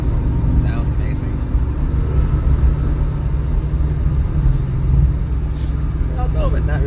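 A BMW 540i6 idles and rumbles at a car show, a steady deep engine drone running throughout, with voices talking faintly over it.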